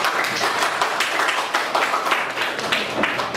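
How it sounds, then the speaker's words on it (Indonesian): Classroom applause for a student presentation group during a teaching practice exam: a short burst of many hands clapping together, fairly close and steady for a few seconds. "Tepuk tangan dulu untuk kelompok 3."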